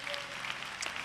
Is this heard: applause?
yes